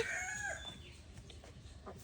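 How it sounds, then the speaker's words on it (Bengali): A native village chicken's drawn-out crowing call fades into softer clucks, fairly faint and a bit distant, with no voices. "দেশি মুরগি"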